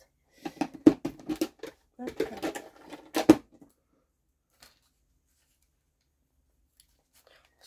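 Large scissors snip through soft washi tape during a crafting session. Several sharp cuts come in quick succession under a voice, followed by a long, quiet pause.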